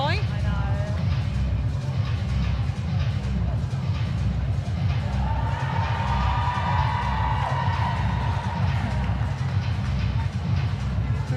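A dense, steady roar of crowd noise fills an indoor arena at a university netball match, with a mascot entertaining the fans; the cheering holds at a loud level throughout, with voices mixed in.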